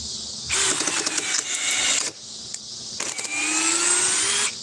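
A power drill drives a screw in two long bursts, its motor whine rising in pitch as it spins up, with a short pause between runs.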